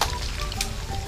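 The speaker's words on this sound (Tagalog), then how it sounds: "Prito na natin yung tuna." Tuna pieces fry in cooking oil at an outdoor cooking setup, giving a steady, close, dense sizzle that holds through the whole brief moment with no voices over it.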